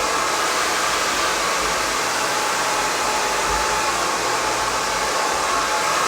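Hair dryer blowing steadily on hair being worked through with a brush during an at-home blow-dry, a constant loud airy roar with no pauses and no talk.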